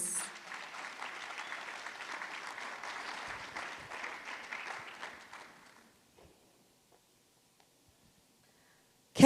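Audience at a youth empowerment event applauds a panelist, a moderate wash of clapping that fades out after about six seconds, leaving near silence.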